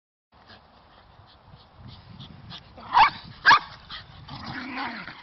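Two sharp, high puppy barks stand out over soft rustling and small whimpering sounds nearby.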